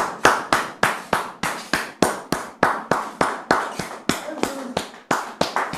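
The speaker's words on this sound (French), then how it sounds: "Merci de la recevoir sous vos applaudissements." Clapping greets a guest at an informal gathering: sharp, evenly spaced claps in a steady rhythm, close and loud, with no voices over them.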